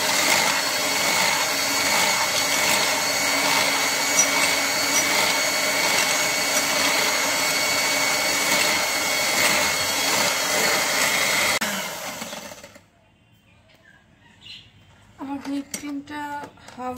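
Steady whirring drone of an electric blender whipping a cup of whipped cream for a chocolate jar cake, running continuously for about twelve seconds before cutting off, followed by brief quiet and light kitchen clatter.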